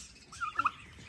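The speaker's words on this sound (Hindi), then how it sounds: "बहुत ज्यादा खतरनाक हो गया हमारा टर्की बर्ड" A pet turkey on a home farm with puppies, goats and other animals lets out a short, faint gobble in a couple of quick warbling bursts, slightly distant, with no talking.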